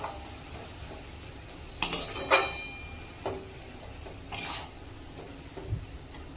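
Papaya mohonbhog with sugar being stirred in a pan gives sporadic spoon clinks and scrapes against the metal, fairly soft, over a faint, steady high background tone.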